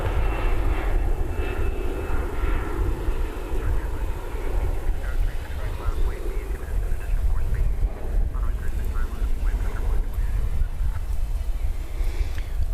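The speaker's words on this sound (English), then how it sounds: "Airbus A321 is coming at us" Airbus A321 airliner approaching at DFW Airport at night, a steady broad engine roar that fills the scene continuously and loudly with faint radio chatter beneath it.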